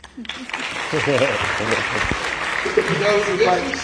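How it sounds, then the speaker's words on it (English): Audience applause during a Starship Troopers fan panel at a comic convention, a sustained round of clapping with someone speaking over it at times. "A little round of applause"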